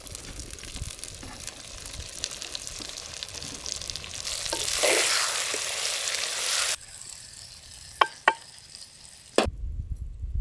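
Steady frying sizzle of browned onions in a pan, with stirring scrapes and a few sharp clinks of a utensil against the pan near the end.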